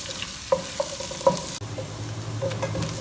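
Finely chopped onions sizzle and fry in a pan, a steady close hiss with a few stirring scrapes and clinks over it.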